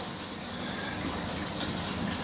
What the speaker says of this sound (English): you can see there it's still flowing with water